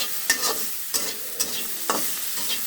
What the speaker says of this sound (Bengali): আর এখন ভাজছি শুটকি চিংড়ি।